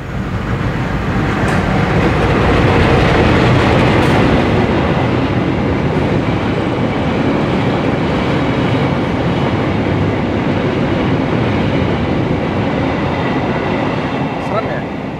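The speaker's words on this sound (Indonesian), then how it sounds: "Ada kereta lewat." A passing train roars loudly and continuously near a railway line, a steady rumbling wash of wheels and carriages with faint clatter, while people talk quietly beneath it.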